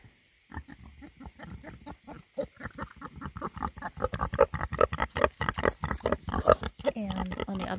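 Pigs in a garden pen grunt and snuffle close by in rapid, overlapping bursts that grow busier and louder, with a few higher squeals mixed in.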